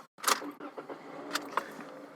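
Car engine starting: a brief rustle and clunk, then a short cranking burst and a few clicks and knocks in the car, heard close by without any speech.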